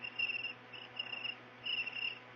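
A cricket chirps indoors in rhythmic bursts of high, shrill trills, steady and moderately loud over a faint hum.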